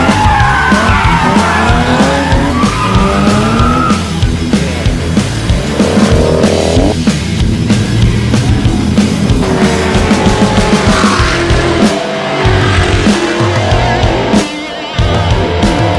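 Race cars on the track at Virginia International Raceway, loud continuous engine roar with rising and falling revs and tire noise, close and dominant for the whole stretch.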